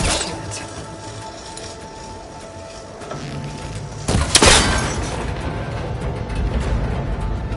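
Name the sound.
cable connector shot and breaking, Horizon Forbidden West video game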